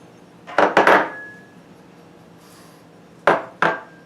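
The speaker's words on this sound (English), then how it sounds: "let's go ahead and get all these ingredients into the bowl" Chocolate zucchini bread ingredients dropped into a mixing bowl as two short clusters of close clattering knocks, one near the start and another near the end, with quiet pauses between.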